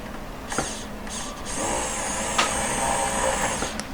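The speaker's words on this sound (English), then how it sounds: "I've got a fine drill, really thin one." A fine, very thin drill works on a handmade brooch pin catch, giving a high whirring whine that starts and stops in short bursts before running more steadily, with small mechanical clicks.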